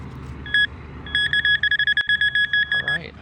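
A Nokta Makro metal detector pinpointer gives high electronic beeping that starts slowly and then speeds into rapid, evenly spaced pulses near a buried target at an old train station, loud and close over faint background noise.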